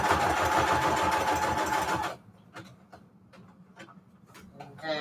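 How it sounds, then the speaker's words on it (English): A sewing machine runs a zigzag stitch over lace, steady and loud for about two seconds, then stops, leaving faint handling taps and clicks. "I am going to do a zigzag stitch. Just hold down the lace and the tab."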